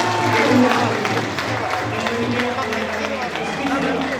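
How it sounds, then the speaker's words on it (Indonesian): An audience at a ceremony applauds, and the clapping comes as a continuous patter mixed with crowd chatter and voices. "kita berikan tepuk tangan yang meriah kepada"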